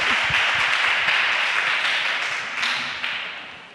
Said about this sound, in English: can I get a big round of applause for Stephen